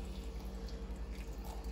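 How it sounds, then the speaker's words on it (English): A small pour of water trickles from a tap into a bowl of arrowroot powder, a faint, quick dripping splash at close range lasting under two seconds. "So I'm just gonna add a little water over here."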